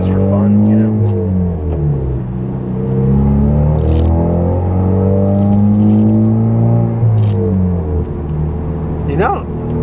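A 2016 Camaro RS with a 2.0-litre four-cylinder engine and a welded-in exhaust sends out a loud, deep, steady drone and rumble with some rattle, while people talk over it.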